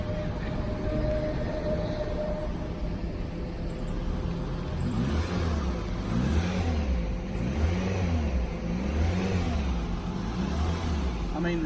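A Toyota Echo engine after Seafoam treatment accelerates steadily, a droning low engine note with rising and falling revs heard from inside the car, fairly loud and continuous, with no voices over it.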